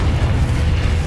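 A fire-based blast spell cast in Hogwarts Legacy goes off as a short, deep, rumbling explosion, heavy and loud for about a second.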